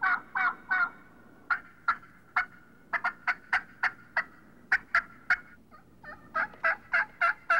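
A person imitates the mating calls of a turkey hen: a close, clear run of short, rhythmic yelps and clucks in quick bursts, with brief pauses and no other sound.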